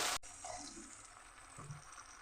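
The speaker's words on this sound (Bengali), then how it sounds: "এখন আমি সামান্য জল দিয়ে দেবো।" Water poured into a pan of fried spice paste for Pabda fish curry: a sharp clunk, then a soft, steady gurgling pour close by, with no one speaking.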